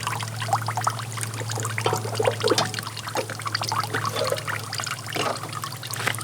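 Water pours and trickles steadily out of flood-damaged equipment, a continuous close splashing stream over a low steady hum, with no voices.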